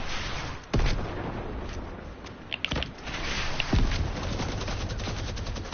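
Rocket blasts and rapid gunfire from a Fortnite match, several sharp booming hits over a dense, continuous rattle of shots and game noise.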